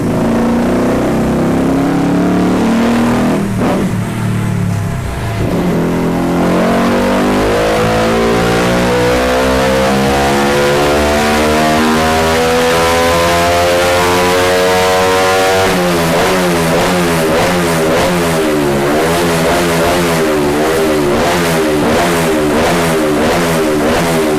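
A 22-horsepower engine revs hard and steadily, its pitch climbing and then holding at a high, buzzing whine, loud and close with no talking.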